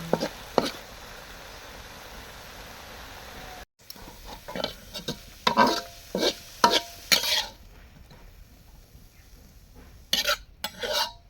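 Greens (shak bhaji) with dried chillies stirred in a pan, a soft steady sizzle broken by repeated scraping clinks of a spatula against the pan, close and fairly quiet.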